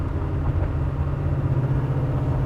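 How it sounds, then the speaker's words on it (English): Deep, throaty exhaust rumble from a 1934 Factory Five hot rod, a steady loud burble with a low pulsing throb, close by. "Listen to that exhaust. Man, it sounds good."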